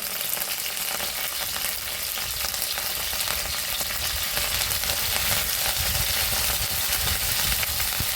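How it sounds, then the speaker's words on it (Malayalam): Curry leaves and mustard seeds splutter in hot coconut oil, a dense continuous crackling sizzle that stays loud and steady from start to finish with no voices. "പിന്നെ കറിവേപ്പില ഇട്ട് കൊടുക്കണം കേട്ടോ അപ്പോൾ അത് പൊട്ടിത്തെറിക്കുക"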